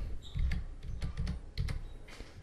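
Someone types a command on a computer keyboard, producing quiet, close, irregular clusters of key taps over a couple of seconds.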